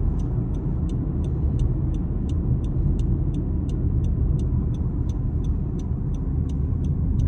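A car drives along a Pakistani motorway near a toll plaza with a loud, steady road and engine rumble, plus a soft regular ticking throughout, and no talking.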